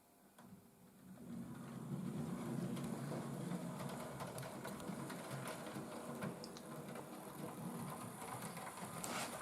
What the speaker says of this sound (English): I am intrigued if this Bachmann Loco will do it, because some of your bigger Bachmann Locos struggle on the points and also struggle on second radius